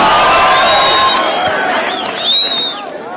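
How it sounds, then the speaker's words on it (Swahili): A large crowd at a Kenyan political rally cheers and claps in a loud, dense roar with whistles and shouting voices, swelling again near the end. "wapi makofi ya Rigiji"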